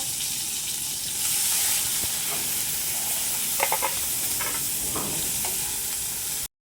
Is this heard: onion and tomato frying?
yes